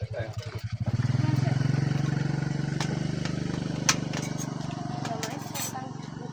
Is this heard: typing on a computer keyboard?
no